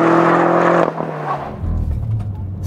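A 2013 BMW M5 sedan, a heavy 4,300-pound car, accelerates hard out of a corner with a loud, steady engine roar that drops off abruptly, then a lower engine note rises again, close and without talk.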